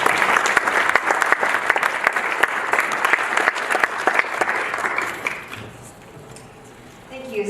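Audience applause at a digital citizenship summit session, dense rapid clapping for about five seconds before fading out, with a voice briefly audible near the end.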